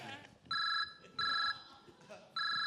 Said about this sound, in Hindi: अब फोन तेरा ही आया